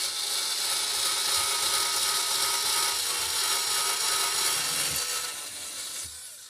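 A Hychika electric screwdriver pre-drills into wood, giving a loud, continuous whirring grind with rough rubbing texture that eases off near the end, heard close with no talk.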